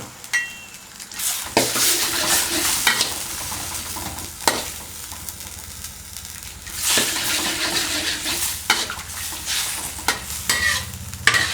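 Seafood noodle gravy with shrimp and squid being stirred hard in a hot pan right after starch goes in, a continuous scraping, sizzling swirl with louder bursts of spoon against metal throughout.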